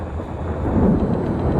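A deep, continuous rumble of thunder rolls steadily, with a hiss of rain underneath and no talking.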